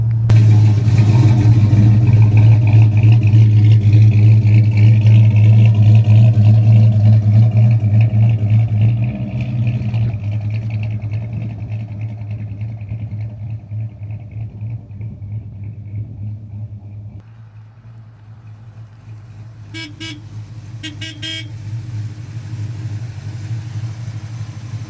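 A 1970 Plymouth Road Runner rumbles along on the road, its V8 engine loud and close with a deep, throaty drone that eases off midway, drops lower, then builds again, with brief higher-pitched clatter near the end.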